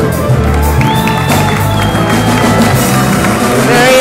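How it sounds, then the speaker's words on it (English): An enthusiastic crowd cheers and shouts near Cuban president Miguel Díaz-Canel, loud and steady throughout, with music and whistles mixed into the din. "Very enthusiastic crowd."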